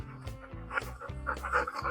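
A dog pants in quick, rhythmic breaths close by, with a few soft whiny vocal bursts mixed in.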